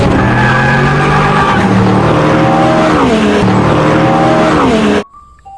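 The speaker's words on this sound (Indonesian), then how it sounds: "Widih, mobil balap." A race car engine screams loudly as it revs up and shifts through gears, with tires squealing and skidding, then breaks off suddenly near the end.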